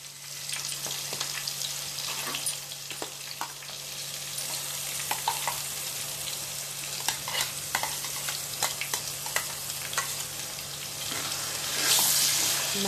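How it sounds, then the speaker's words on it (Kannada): Masala for an Andhra-style fish curry fries on a medium flame with a constant crackling sizzle, broken by frequent light scrapes and taps of a stirring spoon against the pan. "ಮಸಾಲೆ ಎಲ್ಲ ಹಸಿ ಅರಿಶಿನ ಹೋಗೋವರೆಗೂ ಫ್ರೈ ಮಾಡ್ಕೊಳ್ಳೋಣ ಮೀಡಿಯಂ ಫ್ಲೇಮಲ್ಲಿ"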